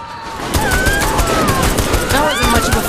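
Rapid gunfire in the video game Saints Row The Third, dense bursts of automatic shots and overlapping fusillade with shrill whizzing effects, loud and continuous.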